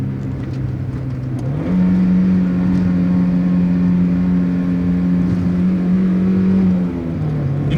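A stock 1992 Mazda Miata NA engine drones steadily, then its pitch jumps up and holds before dropping back near the end, loud and close from inside the car with no talk.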